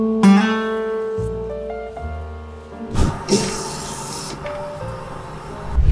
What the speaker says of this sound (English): let's quickly check and see if an A4 on the guitar sounds like an A4 on the printer